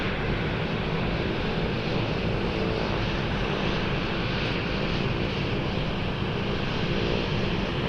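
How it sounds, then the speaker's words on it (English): At Anchorage's Ted Stevens International Airport, a Beechcraft 1900 turboprop taxis with a steady broad propeller and engine roar that stays even and fairly loud throughout, with no talking. "I think we have the Beach 1900 on the move"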